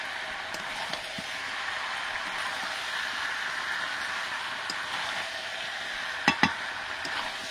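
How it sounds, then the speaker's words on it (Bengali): Fried potatoes being stirred in a pan for a Bengali rui posto dish, with a soft continuous sizzle and scraping and a couple of sharper clinks of the utensil near the end, no talk. "ভেজে রাখা আলুটা একটু নেড়ে নিই।"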